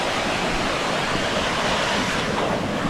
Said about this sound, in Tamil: நானும் ஒரு சூப்பரான நீர்வீழ்ச்சி பக்கத்தில் நின்றுட்டுருக்காங்க